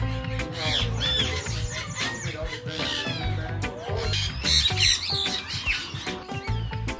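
Parrots, conures and parakeets squawk and chirp in a parrot park in the Caribbean, with shrill overlapping calls close by, and a voice speaks among the birds.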